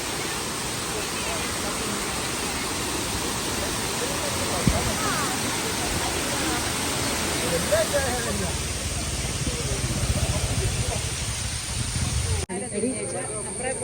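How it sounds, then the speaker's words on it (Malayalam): Water of the Areekkal waterfalls crashing down in a steady, loud, broadband roar that holds evenly throughout, with a brief change in the last second. "ഇവിടെ താഴെ നിന്നാണെന്ന് തോന്നുന്നു വാട്ടർഫോൾസ് വെള്ളം ചാടിക്കൊണ്ടിരിക്കുന്നു"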